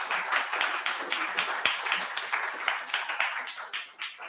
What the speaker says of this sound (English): A huge round of applause for our guests.